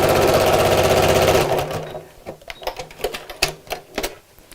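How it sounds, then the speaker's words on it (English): A sewing machine stitches straight across the corner of a recycled denim scrappy bag in a fast, continuous mechanical rattle, then stops, leaving scattered close clicks and handling noises. "and sew straight across. And we're going to do that on all 4 corners"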